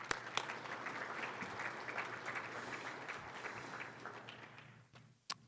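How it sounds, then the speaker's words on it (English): An audience at a regional state-of-the-region address applauds, a steady wash of clapping holding for about five seconds before thinning out near the end, with no voices on top. "please join me in a round of applause to all our generous sponsors"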